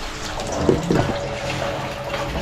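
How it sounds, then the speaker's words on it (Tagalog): Strong flow of running water in a household bathroom, a steady close hiss and rush of liquid continuing without a break. "Lakas ng agas ng tubig ng mga"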